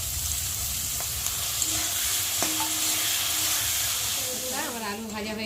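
Potatoes and onions fry together in a pan with a steady close sizzle and occasional stirring clinks, while someone talks over the cooking.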